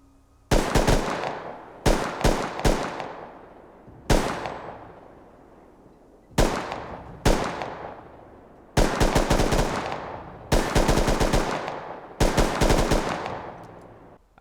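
An LR300 rifle fires in the game Rust, with repeated bursts of sharp, loud automatic gunfire, some short and some longer, each separated by brief pauses and echoing decays, with no talk.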